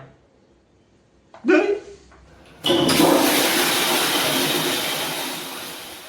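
A toilet flushes with a loud, close rush of water that bursts in suddenly and then drains for several seconds, slowly fading, after a brief, sharp, voice-like sound and a quiet start.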